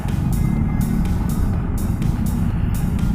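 Dense traffic jam on the road to Puncak Pass near Bogor and Cisarua, heard from a big-bodied Yamaha X-Max scooter stuck behind a bus: a steady, loud low engine drone and road rumble with brief hissy swells of passing vehicles.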